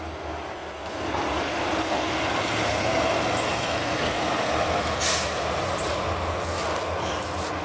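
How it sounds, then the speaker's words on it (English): A garbage truck with air brakes drives by outdoors, a steady loud engine rumble lasting several seconds with brief hissy bursts, no talking. "We got another truck, y'all."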